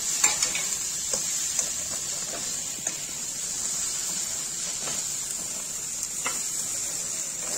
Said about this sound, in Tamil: இந்த சேமியாவை நீங்க இதுலயே நல்லா வறுக்கணும்.